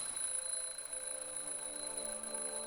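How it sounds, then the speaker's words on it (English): A video game alarm clock in The Dream Machine rings steadily with a bright, sustained electronic tone, alone and moderately quiet. "Turn off alarm clock."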